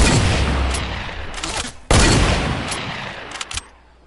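Gunfire in the video game Fortnite comes as loud, close bursts, a dense volley at the start, then a sharp blast after a short gap, followed by a few scattered shots.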